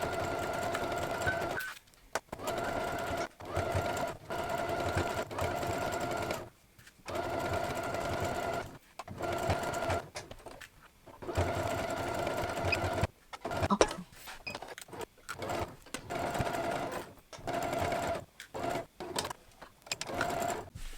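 A sewing machine stitching a bow-shaped cushion runs in repeated fast mechanical bursts of several seconds each, separated by short pauses, close and clear, with no voices.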